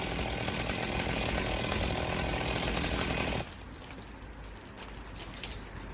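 A chainsaw cuts a tree trunk during tree pruning, a loud continuous buzzing whine for about three seconds that then drops to a quieter idle rumble with faint mechanical rattles.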